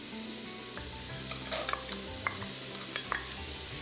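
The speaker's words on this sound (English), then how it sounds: "shiitake mushroom, ginger, and stir fry for about 2 minutes until they become soft" Celery, shiitake mushroom, ginger and carrot stir-fried in vegetable oil, giving a steady close sizzle broken by a few light utensil scrapes and taps.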